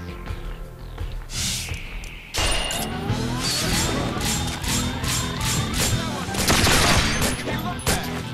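Gunfire in a Resonance of Fate arena battle, a quieter opening followed by a sudden loud flurry of rapid shots, impacts and crashes over the game's soundtrack, building louder toward the end.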